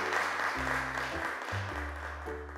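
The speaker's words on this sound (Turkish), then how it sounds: "Evet, alkışlarla seni yerine alıyoruz Nil." Children applaud as Nil returns to her seat on a kids' TV show, with soft, steady clapping under background music.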